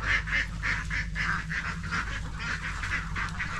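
A flock of ducks quacks and honks steadily while being herded through a field during a rice harvest, with rhythmic, repeated calls close by under a low rumble.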